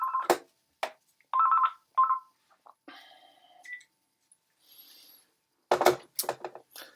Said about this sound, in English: Sorry about that. That was our phone.